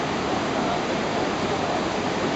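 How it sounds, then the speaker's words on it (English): Dirty floodwater from a broken dam rushes downstream in a loud, steady, unbroken roar of turbulent water, with no voices. "this dam broke, because it's sending a whole bunch of ugly, dirty water downstream"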